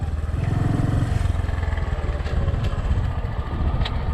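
Motorcycle engine running steadily at close range as the bike is turned around on a road near Garadigini waterfall in Pussellawa, a low idling rumble with a slight rise near the end.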